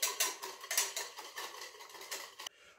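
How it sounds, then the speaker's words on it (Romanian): A utensil stirs and beats ingredients in a bowl for a Romanian tuzlama dish, giving quick, repeated scraping clinks in an uneven rhythm, close and fairly loud, ending abruptly. "Le amestecăm."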